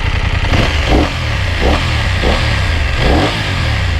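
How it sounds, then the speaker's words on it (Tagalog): BMW F900 dual-cylinder motorcycle with an Akrapovic exhaust revving up close: a loud, throaty engine note surging and falling in several quick blips over a constant rumbling idle, with no voices. "So dual cylinder, hindi siya boxer engine."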